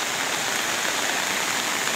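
Heavy monsoon rain in Kotdwara pours down as floodwater fills a garden, a dense, unbroken roaring hiss of falling and rushing water close by, with no talk.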